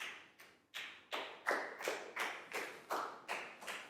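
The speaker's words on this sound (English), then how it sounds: "a big round of applause for Nadia" Classroom applause for a pupil in a Year 4 maths lesson, heard as a series of evenly spaced, fairly quiet claps or taps, about nine in four seconds, with no talking over them.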